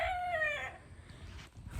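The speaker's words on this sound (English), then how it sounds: "then you just heard the chickens in there" A rooster crows once in a chicken coop, a loud crow that drops off sharply, followed by softer clucking and outdoor background noise.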